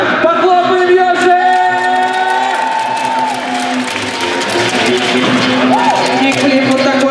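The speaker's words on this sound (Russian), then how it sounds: "Похлопаем Йоши!" A crowd at a skateboarding world cup final in Moscow claps and cheers for skateboarder Yoshi Tanenbaum, with loud sustained applause, whoops and shouts over a voice on a loudspeaker.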